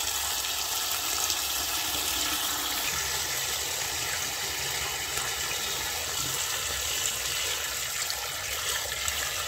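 Vegetables washed under running tap water, a steady close gush that continues unbroken without talk.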